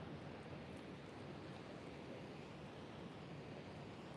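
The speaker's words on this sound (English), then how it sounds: "Take a second to tune into the sound of the ocean here" Ocean waves on the San Diego oceanfront make a steady, soft broadband wash of surf with some breezy wind noise, continuous and fairly faint, with no voices.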